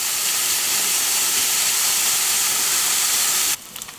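Bacon frying in a pan until crispy, a loud, constant hissing sizzle that holds steady and then cuts off abruptly near the end.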